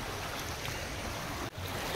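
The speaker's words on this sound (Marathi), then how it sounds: "बघा पाणी वाहत आहे" A forest stream in Sanjay Gandhi National Park, Borivali, rushes along as a loud, steady broadband wash of flowing water heard up close, with one brief dropout near the end.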